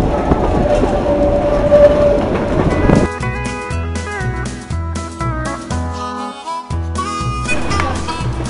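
Durango Silverton narrow gauge steam train chugging steadily up a 3% grade at over 9,000 feet in the San Juan Mountains, with loud rhythmic clacking of wheels and rail joints close by and a rumbling roar throughout.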